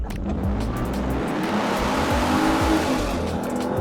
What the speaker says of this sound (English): I'm just gonna do a quick little takeoff